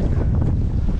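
Strong wind gusts over Lake Paranoá during a fishing trip, a dense, roaring buffet of wind noise on the microphone with water sounds underneath, loud and unbroken.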